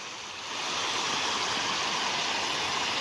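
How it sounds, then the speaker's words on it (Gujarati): Heavy monsoon downpour and rushing water pouring into a village pond in Surendranagar district, Gujarat: a loud, dense, continuous roar of rain and flowing water that swells slightly in the first half-second and then holds steady. "આ જોરદાર વરસાદ આ પાણી નંદીનું જો તળાવનું નદી"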